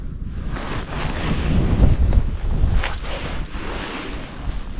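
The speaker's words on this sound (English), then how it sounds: "I am into a very strong wind here" Strong wind buffeting a microphone at a river while fly fishing, a loud continuous roaring rush that swells and gusts throughout with no talking.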